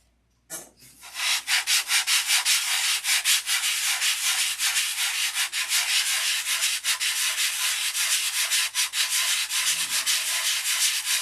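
A beechwood propeller is sanded by hand with a rhythmic scrubbing rasp. It starts after a brief near-silence, then repeats in loud, close, steady strokes with no voices.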